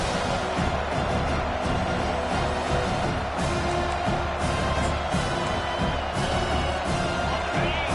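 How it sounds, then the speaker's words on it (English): Stadium crowd in a Madden football video game roars steadily, a dense continuous wash of cheering that holds at an even level from start to finish, with no commentary over it. "And this crowd coming to life here, trying to help the defense get a stop with the offense pinned back."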